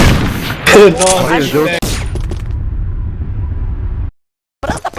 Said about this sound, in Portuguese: Esse Lolo Rock toma tiro aí.